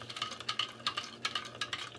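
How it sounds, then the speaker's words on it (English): A spoon stirs brown sugar into Mongolian beef sauce in a pan, making quick soft scraping strokes in an uneven rhythm, close up against a faint steady background hum. "So I'm just going to stir this up."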